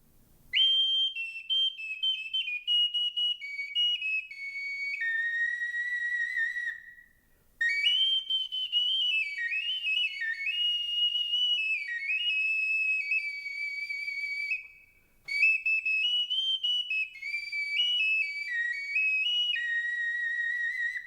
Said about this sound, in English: This is an anthropomorphic bitonal or two-tone whistle.